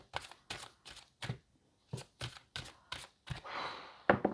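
Tarot cards being shuffled and drawn by hand, heard as a run of crisp, close snaps and riffles in a quick uneven rhythm with short pauses between them, followed by a longer soft rustle, with no talking.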